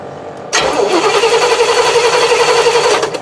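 GMC motorhome engine cranking and catching, a sharp start followed by a steady, loud idle rumble that runs for a few seconds before cutting off.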